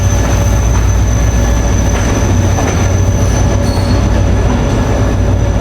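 A Tezgam passenger train runs steadily along the tracks near Nawabshah, with a continuous loud rumble of wheels and carriages and some faint squealing, and no voices.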